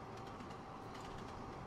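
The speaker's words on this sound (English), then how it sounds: "Hello, Mr. TGV train." Steady rumble and rolling noise of a TGV train in the Trainz Simulator 2 game near Paris Montparnasse, a continuous loud drone without talk.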